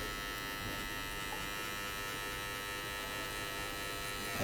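Electric hair clippers with a click lever run continuously at close range, giving a steady, even buzz with no breaks or voices.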